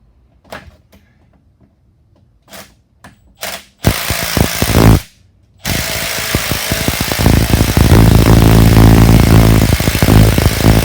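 A power wrench works bolts during a clutch replacement on a 2017 Dodge Challenger, starting with sparse clicks and knocks, then loud sustained whirring bursts, a brief pause, and a long continuous run close by.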